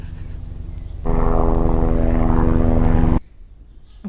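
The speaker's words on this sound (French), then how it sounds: "il y a un hélico qui passe." A propeller aircraft engine drones loudly overhead outdoors, swelling abruptly into a steady close roar for about two seconds before cutting away, with no talk over it.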